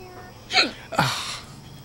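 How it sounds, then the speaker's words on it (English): Two sharp, close hiccups about half a second apart, each a quick voiced gulp with a breathy tail, loud against a quiet room. "Not allowed hiccup."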